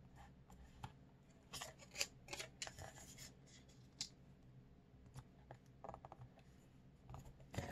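Scissors snip through paper ribbon for a Christmas ornament mini box papercraft, giving quiet, close, irregular cuts and rustles with small crisp clicks scattered throughout and no talking.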